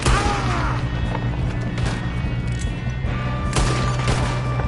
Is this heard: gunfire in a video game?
yes